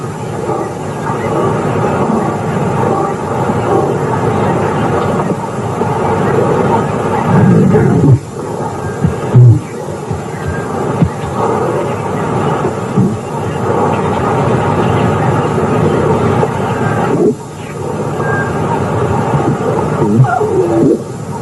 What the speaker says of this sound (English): Here she is roaring.